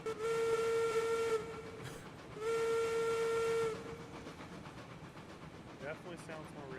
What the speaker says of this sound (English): I like to like drag it down when I do my whistle